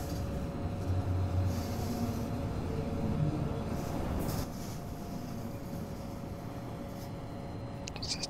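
A Rhaetian Railway ABe 8/12 Allegra electric train approaching through a snowy simulated landscape, a steady low rumble with hum and rail noise that swells and then settles slightly, continuous throughout.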